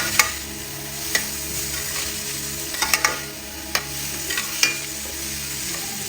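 A spoon stirring carrots and other ingredients in a frying pan for Italian cannelloni, with a steady sizzle underneath and occasional sharp scrapes and clinks against the pan, close and alone.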